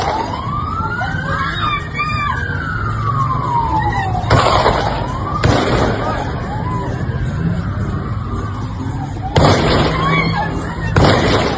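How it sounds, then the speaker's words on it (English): Sharp bursts of gunfire from a shooting in Australia crack out a few times over a wailing siren and distant crowd noise. "Those are not firecrackers, actual gunfire."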